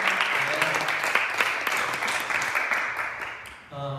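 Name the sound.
congregation applause of thanks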